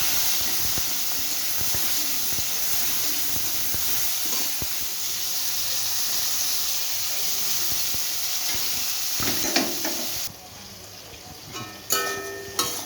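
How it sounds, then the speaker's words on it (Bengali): Steady sizzling hiss from a hot pan, broad and constant, with a sharper burst of spitting and hissing near the end as turmeric water hits the oil. "একটু হলুদ জল দিয়ে দিলাম"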